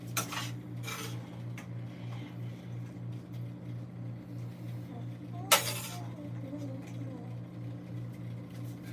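Cutlery clinks and scrapes against a plate as food is served, with a few sharp knocks over a steady low hum.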